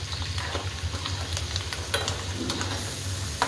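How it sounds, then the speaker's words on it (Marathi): Steady sizzling as peanuts roast in a pan for poha chivda, with light scraping and stirring clicks throughout, close and continuous. "आपले शेंगदाणे असे भाजत आलेले आहेत।"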